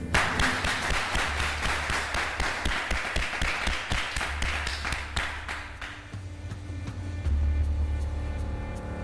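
A reality TV show audience claps together in quick, even rhythm, loud at first and fading out after several seconds, leaving a low hum underneath.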